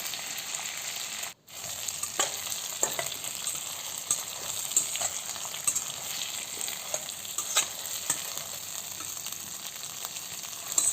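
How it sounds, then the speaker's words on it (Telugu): Stuffed brinjals for Andhra-style gutti vankaya fry steadily in oil over a low flame, giving a continuous soft sizzle with occasional light stirring clicks and one brief dropout near the start, no voices. "బాగా ఇది హాఫ్ ఫ్రై అయ్యేంతవరకు మనం ఆయిల్లోనే వేయించేసుకుందాము"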